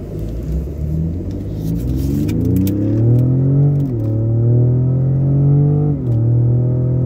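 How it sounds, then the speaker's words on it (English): A Ford Raptor's 3.5-liter turbo V6 accelerates hard from inside the cab, its engine tone rising steadily through gears with two brief dips at shifts, loud and close. "I expect this turbo to really kick in as soon as I punch this thing"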